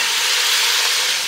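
A whole pound of bacon sizzles in a pan over high heat, a loud, dense, continuous hiss with no pauses and no voices.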